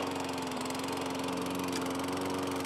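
A Toro 22-inch Recycler lawn mower, just repaired, runs with a steady, close, continuous engine drone that holds an even pitch throughout, with no voices.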